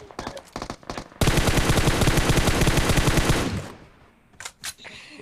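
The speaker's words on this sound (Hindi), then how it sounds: "तो सबसे पहले तो पीछे से एक बॉट फायरिंग करता है" Sustained burst of automatic gunfire from a bot in a battle royale video game, loud and rapid for about two seconds, preceded and followed by scattered shots and brief noises.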